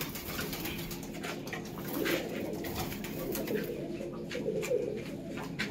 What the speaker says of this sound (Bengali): এটা ডাইরেক্ট ইম্পোর্ট করা পায়রা, মংলাগিরি পায়রা